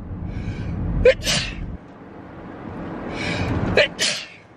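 Two loud, close human sneezes a few seconds apart, each a sharp intake followed by an explosive burst, over faint room noise.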